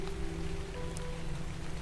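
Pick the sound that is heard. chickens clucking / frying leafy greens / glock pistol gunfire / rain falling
rain falling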